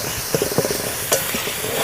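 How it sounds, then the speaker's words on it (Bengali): Chilli, fennel and coriander powder masala sizzles in a pan for a fish curry, with a steady hiss and soft scraping stirs, a few sharper clinks of the spoon against the metal. "এবার আমি মশলাটা ভালো করে কষিয়ে নেব।"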